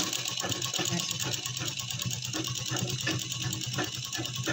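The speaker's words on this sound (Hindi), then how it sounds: "आगे फिर हम ऐसे ही सीधी सिलाई लगा देंगे" A sewing machine runs continuously, stitching elastic onto a saree belt with a steady, fast mechanical chatter throughout; no talk is heard in the clip.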